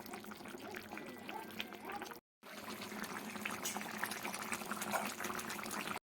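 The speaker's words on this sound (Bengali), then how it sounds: "ঝোলটা একদম ফুটে গেছে এবং পুরোপুরিভাবে রেডি হয়ে গেছে" Parshe fish curry bubbles in a pot, a close, busy simmering with frequent small pops and liquid burbles that runs almost continuously, broken by two brief silent gaps.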